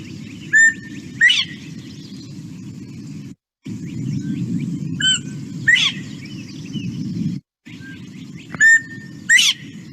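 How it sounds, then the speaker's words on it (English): Northern Bobwhite song from a grassland bird recording: a clear rising two-part whistle ending in a sharp, screamy upslurred note, repeated three times at steady intervals over a low, constant background rumble. "So classic Bob White song."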